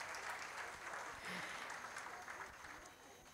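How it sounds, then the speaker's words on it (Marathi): An audience applauds at a Ganeshotsav cultural performance, a dense, continuous patter of clapping heard from a distance at moderate volume, with no voices over it. "पण पुन्हा एकदा टाळ्या मुलींसाठी या सगळ्या."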